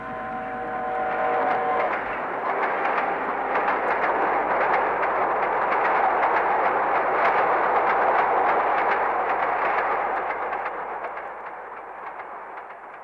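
A train roars past nearby in a loud, steady rushing rumble that swells and then slowly fades away.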